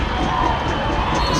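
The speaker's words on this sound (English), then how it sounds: "It is hard to even hear ourselves over the noise of the crowd" Dense, loud crowd noise from a high school playoff football game, a steady roar of cheering and shouting fans that fills the whole moment without a break.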